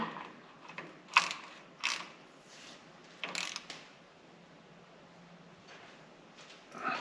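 Ratchet clicking in short bursts while tightening the differential fill plug on a Toyota or Lexus driveline during a fluid change, a few quick ratcheting strokes close by with quiet pauses between.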